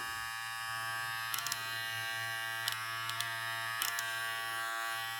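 A louder electric hair clipper, one of a BaByliss LoPROFX or JRL 2020C, runs with a steady close buzz and hum throughout, broken by a few brief clicks and handling taps.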